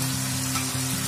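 Masala for lauki kofta curry frying in a pan, a dense continuous sizzle that stays close and even for about a second, with no voices.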